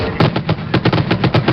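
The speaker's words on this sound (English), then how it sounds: "And there were yet more fireworks today, and cannon and horns" Fireworks and cannon fire at a 1986 Fourth of July harbor celebration, a rapid string of loud, sharp booming reports in an uneven rhythm, close and dominant.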